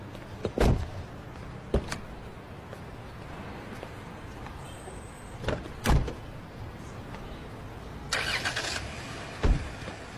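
A car door shuts and the car's engine starts. Several sharp thumps and clunks sound at intervals over a steady low rumble, with a brief whirring burst near the end and no clear speech.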